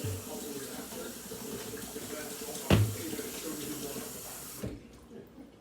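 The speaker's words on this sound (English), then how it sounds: "I'm gonna add a little bit of water" Tap water runs steadily while being added to a pot of mac and cheese in a home kitchen, with a sharp clunk midway before the flow stops.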